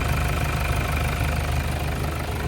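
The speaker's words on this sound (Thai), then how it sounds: "อ่าให้ฟังเสียงเครื่องยนต์ก่อน" A 2007 Toyota Vigo 3.0 diesel pickup idles close by with a loud, steady rumble and rhythmic diesel clatter, with no voices.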